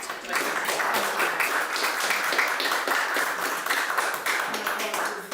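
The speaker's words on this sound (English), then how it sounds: "I really feel that we should just congratulate and applaud Dr. Yewande." Sustained applause from an audience, dense steady clapping at an even level throughout with no voices standing out.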